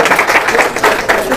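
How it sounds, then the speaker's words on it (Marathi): An audience at a Marathi quiz event breaks into a burst of clapping, fairly close and dense, with uneven surges in the crowd's applause and no one speaking. "जोरदार टाळ्या होत्या."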